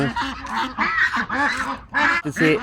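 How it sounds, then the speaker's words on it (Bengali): Ducks on a large Cambodian duck farm quack loudly and continuously, several birds overlapping in rapid, nasal bursts close by. "দেখেন কত সুন্দর কত স্বাস্থ্যবান হাঁসগুলা"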